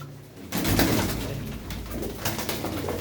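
Several pigeons coo continuously at close range, a dense throaty warble that swells in after a brief quieter moment and keeps going.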